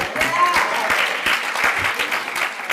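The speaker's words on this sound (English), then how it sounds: "Go ahead and clap for her." Audience applause at a Black Women's Roundtable gathering, a dense steady wash of many hands clapping throughout, loud and close, with a few faint voices mixed in.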